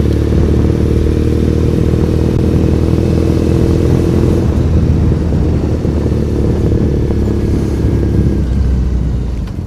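A custom Triumph Bonneville motorcycle riding through Tokyo, its engine a loud, steady low drone heard from the rider's position, the pitch holding fairly even with a slight shift partway through, mixed with wind and road noise.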